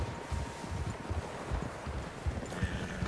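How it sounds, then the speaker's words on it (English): Several horses' hooves clip-clop in a loose, steady rhythm over soft wind noise, with no voices, in the video game Red Dead Redemption 2. "Horses, quite a few of them."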